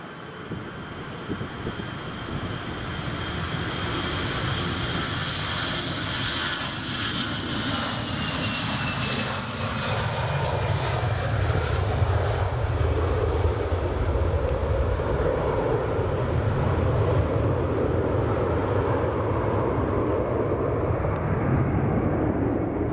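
EasyJet airliner engines at Edinburgh Airport, a steady, loud jet roar that builds slightly over about twenty seconds, broad and continuous with no voices.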